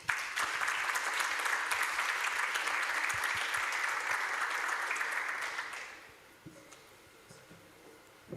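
A conference audience in Bali applauds to welcome a speaker, producing dense, steady clapping that lasts about six seconds before fading quickly into quiet room tone.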